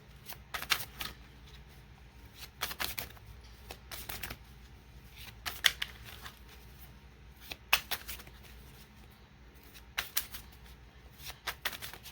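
Tarot cards being shuffled by hand in a quiet room, a series of crisp riffling bursts every second or two between softer handling noises.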